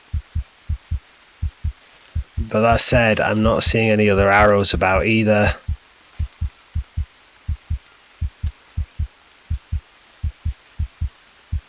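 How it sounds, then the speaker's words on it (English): A looping heartbeat effect from the survival game Green Hell thumps in steady paired beats throughout, briefly overlaid by someone talking before the beats continue alone. "The heartbeat sound has stopped."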